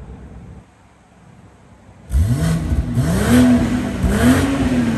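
A BMW M340i engine roars to life and revs repeatedly, exhaust valves closed then open, loud and close, rising and falling in several throaty bursts after a quiet start.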